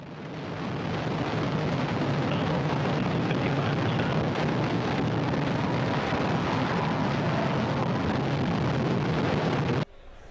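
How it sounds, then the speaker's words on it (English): Orbital ATK Antares rocket launching: a loud, continuous, rumbling roar holds steady for about ten seconds, then drops off abruptly at the end. "Orbital ATK's Antares on its way"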